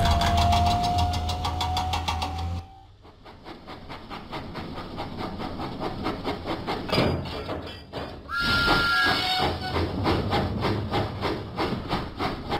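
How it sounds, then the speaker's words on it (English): Cartoon steam engine Thomas puffing in a Thomas and Friends lift, load and haul video game, with rhythmic chuffing under background game music and a brief pause midway. "Thomas pumped his pistons and puffed out of the docks."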